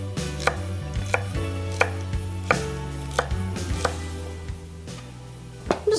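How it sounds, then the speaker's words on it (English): Celery being cut into small dice with a knife on a board gives a series of crisp, close chopping thuds at an irregular, moderate pace over a low background hum. "you want to cut it into thin strips. You can make small dices"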